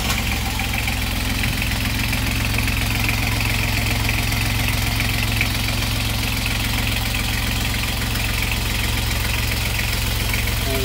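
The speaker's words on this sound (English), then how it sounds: "Let's go ahead and get the engine uncovered. We'll crank it up, show you how it runs." A 1972 Dickerson 36 sailboat's inboard engine idles at a steady, loud rhythmic chug with a constant mechanical throb, close by and uninterrupted with no talking.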